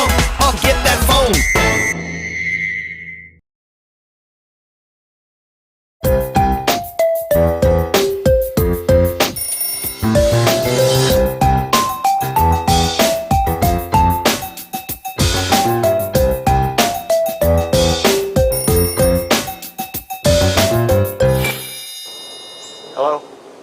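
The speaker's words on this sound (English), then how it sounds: "Your iPhone is ringing" iPhone ringtone playing loud and close as a bright, repeating melodic chime with a steady rhythm, starting briefly, pausing for a few seconds of silence, then ringing continuously for most of the time before fading near the end.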